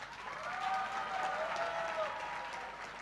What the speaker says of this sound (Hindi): ताली तो बड़ी बजा रहे हो